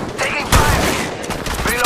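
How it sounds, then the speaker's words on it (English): Gunfire during an Apex Legends Mobile match, a rapid busy stream of overlapping shots and impacts at close range, sustained and loud throughout the brief moment. "Taking fire!"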